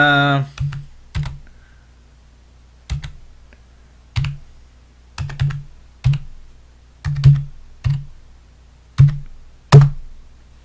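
Keys clacking on a computer keyboard while a Pi-hole admin page is opened, sounding as short bursts of a few strokes each, spaced every second or so, close and clear with no talking.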